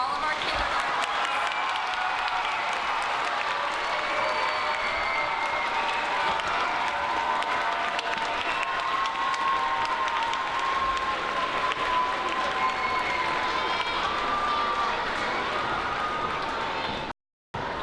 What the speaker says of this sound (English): Let's have a big round of applause for all of our kindergartners.